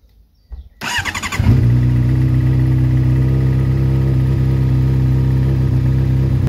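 A Honda CBR 600 RR motorcycle engine starts with a brief crank and catches, then idles loud and steady close by with a low, even throb and no talk.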